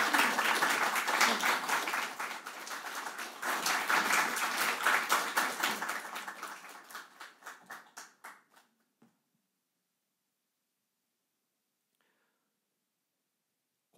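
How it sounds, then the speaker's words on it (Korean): A church congregation applauds after a baptism, dense clapping filling the room for several seconds before thinning into scattered claps and fading out, followed by near silence. "박수로 환영해 주시기 바랍니다."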